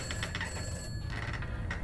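A telephone bell rings continuously in the Summer of 58 video game, a bright trilling ring that holds steady and fairly loud with no voices over it.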